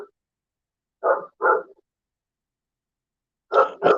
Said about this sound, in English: Dog's gone mental.